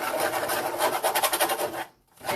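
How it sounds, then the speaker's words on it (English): A spoon scrapes the bottom of a pan while browned-butter frosting is stirred, a close, gritty rasping in quick strokes that stops briefly and then starts again. "I'm scraping the bottom of the pan because I want to scrape those bits up"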